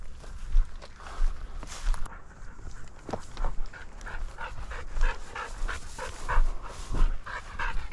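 Hunting dogs out on an Arizona quail hunt, panting steadily close by as their feet crunch and pad over the ground in an irregular rhythm, with no talk.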